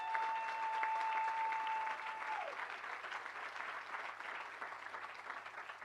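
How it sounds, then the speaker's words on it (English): An outdoor crowd at a hospital topping-off ceremony in Louisville applauds the construction and design team with a soft, even wash of clapping that sounds somewhat distant. A faint steady tone carries through the first half. "Can we get a round of applause for the construction and design team that are getting this done?"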